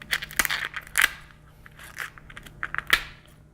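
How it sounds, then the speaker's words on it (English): Kitchen scissors snip down the shell of a lobster tail, giving a run of sharp, close cracking clicks with a few louder crunches, heard alone with no talk. "We're going to take our scissors here, go right beside, and just start cutting down."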